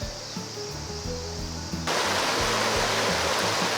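River water rushing steadily on a clear, hot summer day after the rainy season, a continuous broadband wash that swells louder partway through as the flow sounds closer.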